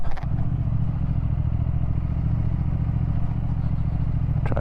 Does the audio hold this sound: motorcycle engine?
yes